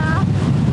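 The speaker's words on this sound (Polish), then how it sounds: "Tak wygląda morze, tylko wam wieje." Wind blowing by the sea, a steady low rumble of gusts buffeting the microphone, loud and continuous, with a faint tonal whine early on.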